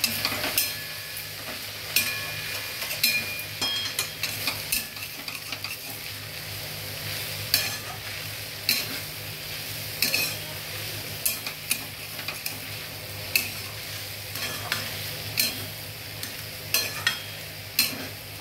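A fish cutlet mixture seasoned with shahi garam masala is stirred in a pan: repeated scraping clicks of a utensil against metal over a constant frying hiss, with irregular taps continuing throughout and no talk.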